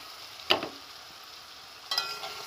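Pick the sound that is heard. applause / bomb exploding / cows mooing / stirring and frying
stirring and frying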